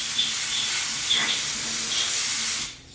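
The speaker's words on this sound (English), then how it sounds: "I can use compressed air to blow it off." Loud continuous hiss of compressed air blowing in short pulses, cutting off abruptly at the end, spraying off surfaces of a V5 Stirling engine.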